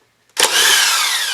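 A power tool spins up abruptly and keeps whirring loud and close while it loosens the magneto rotor on a Honda Dio 27 scooter engine, with a high whine over a rattling mechanical buzz.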